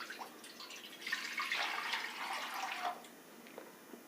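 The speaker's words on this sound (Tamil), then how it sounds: "ஒரு செம்பு தண்ணி விடுறேன்." Pot of water being poured into a cooking vessel on a stove, a soft splashing gush lasting about two seconds, faint and near, between quiet drips.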